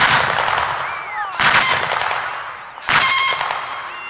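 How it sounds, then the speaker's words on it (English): Medium machine gun firing about 600 rounds a minute at an outdoor firing display, loud close bursts in several sharp volleys with echoing tails between them. "From there then, you've got medium machine guns."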